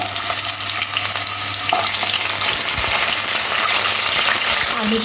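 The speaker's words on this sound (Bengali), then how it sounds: "কেটে রাখা আলুগুলো তেলের মধ্যে দিয়ে দেবো দিয়ে লাল লাল করে একটু ভেজে নেবো" Cut potatoes fry in very hot oil in a wok, throwing off a loud continuous crackle and hiss, with scrapes and knocks from stirring partway through.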